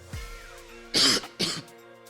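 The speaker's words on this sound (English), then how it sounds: "There's me coughing up, mashing my throat." A person coughs twice, harsh and close, the bursts separated by a short gap, with a low throat-clearing rumble just before.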